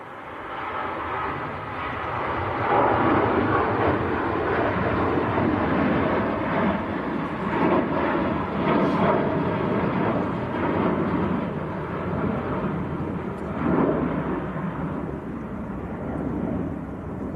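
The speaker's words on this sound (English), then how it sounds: "Ryanair on the roll" A Ryanair airliner accelerates down the runway at Manchester Airport, a steady broadband jet roar heard from a distance that holds fairly constant with wind-buffeted rumble throughout.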